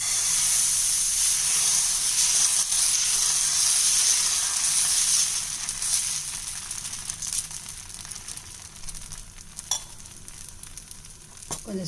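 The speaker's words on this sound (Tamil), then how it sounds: "நான் இப்போ தோசை ஊற்ற ஆரம்பிக்கிறேன்." Finger millet leaf (mudakathan keerai) dosa batter poured onto a hot pan hisses in a loud, steady sizzle that fades somewhat midway, with a few sharp scrapes and clinks toward the end.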